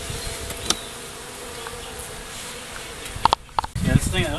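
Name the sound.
bees buzzing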